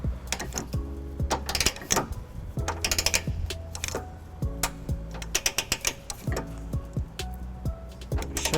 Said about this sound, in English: We can go ahead and tighten down our M12 bolts to 86 foot-pounds.